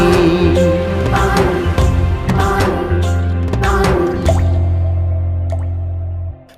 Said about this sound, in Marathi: थेंब थेंब हे पाणी